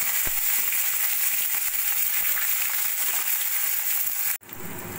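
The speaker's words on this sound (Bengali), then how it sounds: "পেঁয়াজ রসুন 2 মিনিট মতো ভেজে নিয়ে" Chopped onion and a few garlic cloves fry in hot oil for a Bengali rui fish curry, giving a loud, steady hiss that runs alone until it cuts off abruptly near the end.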